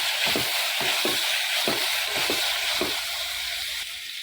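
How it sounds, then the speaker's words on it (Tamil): Long-cut sliced onions fry in a pan with a constant, loud hiss. Low, regular thuds from stirring sit under the hiss, and no one speaks. "நல்லா வதக்கிக்கலாம்."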